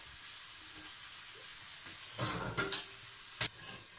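Crushed tomato simmers in a covered frying pan on a butane stove: a steady low sizzle and bubbling hiss, broken by a few louder spits and pops, with no one talking.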